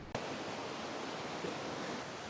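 A huge waterfall beneath a glacier in Norway, carrying about 10,000 liters per second, roars as a steady, dense wash of noise, with no voices over it.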